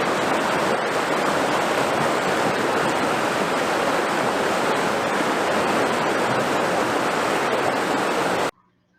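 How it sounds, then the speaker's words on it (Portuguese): Water rushes steadily through laboratory channel benches, a loud, continuous broadband flow that cuts off abruptly at the end. "A água escoando nessas bancadas seria incompreensível?"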